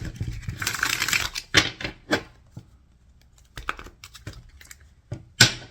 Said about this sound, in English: Let's give it 3 shuffles.